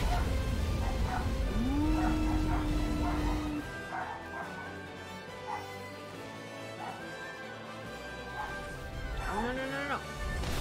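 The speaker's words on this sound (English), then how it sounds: "The puppies." Puppies in the Harvestella video game bark and yip in short bursts, a sustained whine or howl early on, set against game music with a voice talking throughout.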